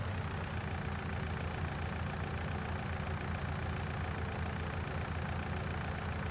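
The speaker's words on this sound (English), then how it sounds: "And it is pulling that cultivator that supposedly takes 300 horsepower." A tractor engine in Farming Simulator 19 pulls a cultivator rated at 300 horsepower, giving a steady, loud, low drone that holds level throughout with no talking.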